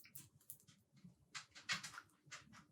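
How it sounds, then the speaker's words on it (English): A dog whimpers in short, whiny bursts at fairly close range, with scattered thumps and rustling noises around it. "Oh my god, the dog."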